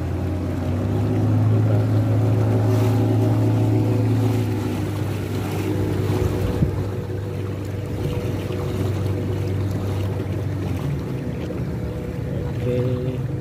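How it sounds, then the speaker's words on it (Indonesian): A motorboat ferry carrying three or four motorbikes across a river drones steadily with a low engine hum, water washing around the hull, continuous and close throughout. "Perahu yang nyebrang rata-rata bawa 3 motor 4 motor"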